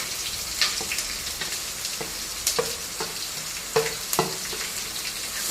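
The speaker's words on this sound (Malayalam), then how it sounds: "ഇതൊന്ന് മൂപ്പിച്ചെടുക്കാം. ഇപ്പം തേങ്ങക്കൊത്ത് മൂത്ത് വന്നിട്ടുണ്ട്." Coconut pieces and onion fry in a pan for a Kerala-style chicken curry, crackling with a steady close sizzle. Occasional louder scrapes and clicks come from a spoon stirring, with no voices.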